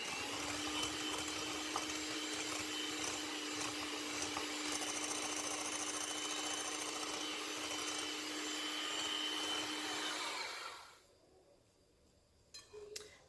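An electric mixer whips batter as sugar goes in, with a steady, droning whir for about eleven seconds before it cuts off, followed by a couple of light clinks.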